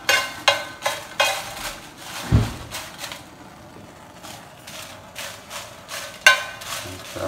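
Chiles de árbol toasting in a pan for salsa, with a series of sharp scraping and tapping strokes against the metal in an uneven rhythm, fairly close, over a quiet background.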